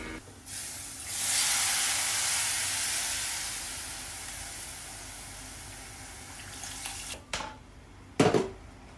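Soaked tamarind water poured into a simmering fish curry gravy in a pan, a loud sustained hiss and sizzle that slowly fades, followed by a few short clattering knocks.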